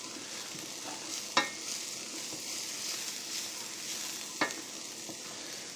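Parsley mixture is stirred in an antique cast-iron frying pan from before 1910, a soft continuous sizzle with scraping strokes and two sharp clinks of utensil on metal, close and fairly quiet.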